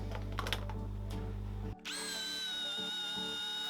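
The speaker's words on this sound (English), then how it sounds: "the amount of drilling of pocket holes that you're going to see on this project" A power drill bores pocket holes into scrap wood boards, first a loud low grinding run, then a brief stop and a high, whining spin that continues close by without voices.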